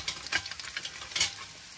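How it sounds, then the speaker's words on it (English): Rice is stirred into a pot of boiling water in a truck camper kitchen, a close series of soft scraping, swishing strokes with a bubbling sizzle beneath, brief and fairly quiet. "my water's boiling, so now I'm going to dump the rice in there and give that a stir"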